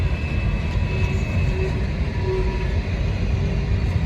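Norfolk Southern freight cars roll past at Bluefield, West Virginia, a steady close rumble of wheels on rail with faint clicks and a thin squeal riding above, continuous throughout.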